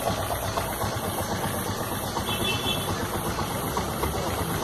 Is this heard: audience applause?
no